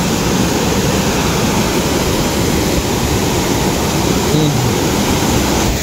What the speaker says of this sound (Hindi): क्या प्रेशर है पानी का।